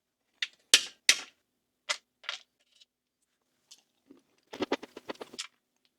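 Crunchy bites and chewing of dark chocolate with a fruit mix from a 2021 German 24-hour EPA Type 1 MRE, a few separate crisp crunches followed by a quicker cluster of chews, close and quiet.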